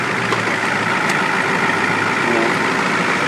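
A 1994 Ford F250 diesel truck idles nearby with a steady, dense low rumble and clatter that holds even and unbroken for a few seconds.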